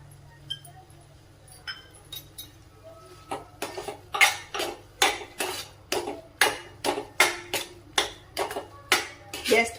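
Carrot halwa sautéed in a pan over high heat, a spoon scraping and clinking against the metal in a quickening steady rhythm, close and distinct.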